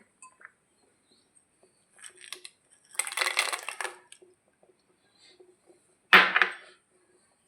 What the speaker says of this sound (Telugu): దీనిలో కాజు కాజు వేసుకుందాం.